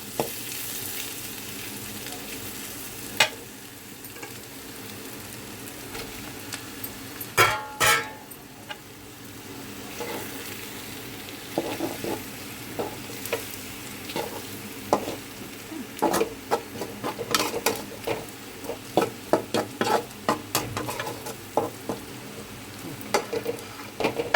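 Onions and prawns fry in a pan for an egg-and-prawn dish, a steady close sizzle broken by scraping stirs and sharp clatters of the spatula against the pan.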